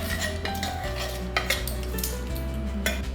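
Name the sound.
stirring spices into red chilli lemon pickle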